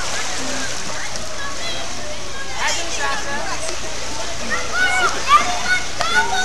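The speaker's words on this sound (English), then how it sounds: "Let me see you swim." Someone swimming in water at night at a summer camp, with light splashes and sloshing under frequent talking and children's voices, building into a few sharper splashes toward the end.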